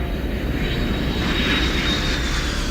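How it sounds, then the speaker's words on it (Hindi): A fixed-wing passenger airliner departing Kathmandu airport roars with a steady, dense engine rumble and broadband rushing noise, loud and continuous with no voices. "विमान ने भारतीय समय अनुसार 4 बजे काठमांडू हवाई अड्डे से उड़ान भरी।"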